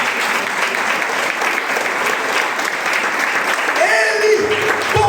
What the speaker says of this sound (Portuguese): Aplauda o Senhor, irmão.